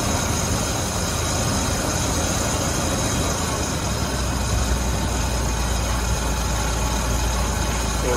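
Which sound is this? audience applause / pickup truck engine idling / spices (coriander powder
pickup truck engine idling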